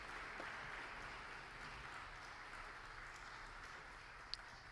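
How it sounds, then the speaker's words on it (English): Applause for a panel at an investment forum in Uruguay, a steady, fairly faint patter of clapping from an audience in a hall, continuing evenly for a few seconds. "let's give them a round of applause"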